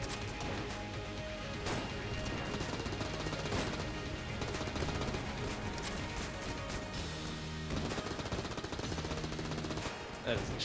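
Rapid gunfire from a weak gun in the roguelike shooter Enter the Gungeon, a steady stream of light popping shots under layered game music and effects, fairly quiet and continuous throughout.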